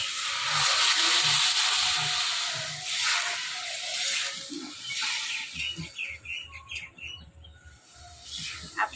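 Water poured into a wok of hot fried spice masala gives a broad hiss that fades over a few seconds, followed by softer, uneven bubbling and crackling close by.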